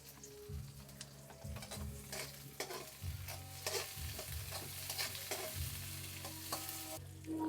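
Onions sauté in a pan for beef sinigang, an even sizzle under frequent clattering stirs and scrapes of a utensil against the pan, close and lively.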